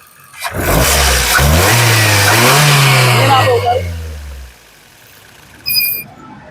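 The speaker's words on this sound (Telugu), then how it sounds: "ఇంజన్ రన్నింగ్ లో ఉంది ఇంజన్ యొక్క నాయిస్ చాలా సైలెంట్ గా ఉంది" A 2011 Maruti Suzuki Swift LXI engine revs hard, its pitch climbing and then falling away as it settles, loud and close, followed by a short sharp noise near the end.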